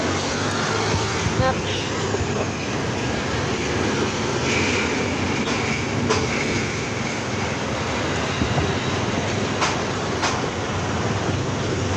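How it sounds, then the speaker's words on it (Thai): Express train 171 from Krung Thep Aphiwat to Su-ngai Kolok arrives at the platform in Salaya, Thailand, rumbling steadily nearby with a constant low roar, some faint voices and clatter mixed in. "รถไฟเข้า รถไฟเข้าชานชลา"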